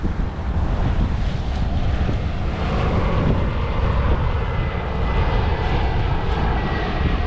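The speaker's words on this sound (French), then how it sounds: "il y a un avion qui se pose" A fixed-wing airplane comes in to land, its steady broadband engine roar heard from a sailboat in the strait, mixed with heavy wind buffeting the microphone and the wash of waves, continuous and fairly loud throughout with no talk.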